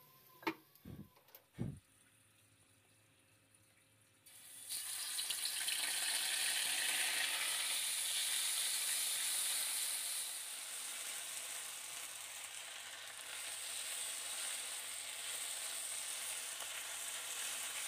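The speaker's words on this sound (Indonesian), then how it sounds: "sekarang kita akan kurangi minyaknya dan tumis bumbu halusnya ya Bun" Ground spice paste hits hot oil in a pan after a few clinks of utensils, bursting into a loud, bright, continuous sizzle that holds steady, with no talking.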